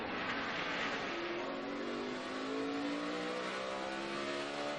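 Jimmie Johnson's NASCAR stock car accelerates out of the pits at the 2012 AAA Texas 500, a steady, rising engine roar that climbs in pitch as it pulls away, loud and continuous with no talk.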